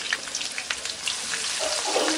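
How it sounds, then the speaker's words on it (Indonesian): Hot oil crackling and sizzling in a wok before spices go in for stir-frying, a steady fizzy hiss with scattered pops, fairly close and moderately quiet, no talking. "Sekarang kita mau tumis bumbu-bumbunya sampai nanti wangi banget."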